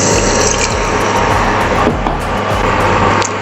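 Water is poured into a pan of fish head curry made with katla (rohu-type carp) head, a steady broadband splashing and running flow that holds throughout at close range with no talking.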